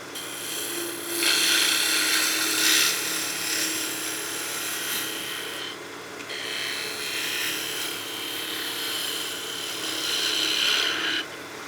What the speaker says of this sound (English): We're starting here with that flute close for our entry cut, making sure the nose of the gouge gets into the fibers and onto bevel support.